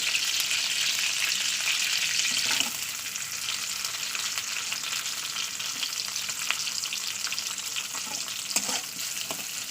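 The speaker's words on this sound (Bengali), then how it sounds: "তো দেখতে পাচ্ছেন পেঁয়াজটা ভাজা হচ্ছে" Onions frying in leftover oil from yesterday's fried fish, a steady loud hiss and crackle that runs unbroken throughout, with a few sharper pops and stirring clicks standing out.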